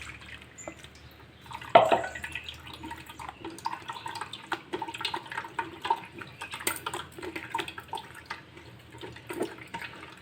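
Water trickles and drips into a mixer grinder jar, a thin splashing pour with scattered drips and one brighter splash near the start, fairly close and fairly quiet, with no voices.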